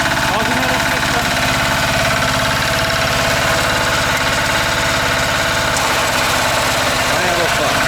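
A walk-behind tractor's engine idles steadily and loudly up close, a continuous mid-pitched knocking drone with a slight change in tone near the end, while someone talks briefly over it.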